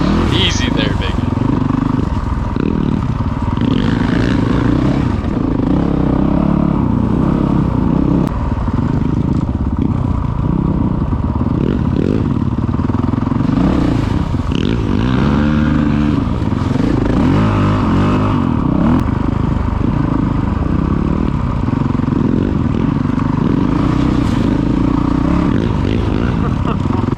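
A Honda CRF450L dual-sport motorcycle on a muddy trail, its engine droning and revving steadily throughout with shifting pitch as it accelerates, loud and close, with occasional clatter.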